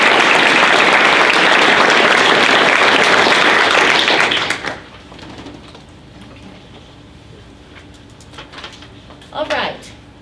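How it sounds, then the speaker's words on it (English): Audience at a school board meeting applauds students with loud, dense clapping for about four seconds, then it stops abruptly into a quiet room with a few faint taps and a brief thump. "So let's applaud them one more time."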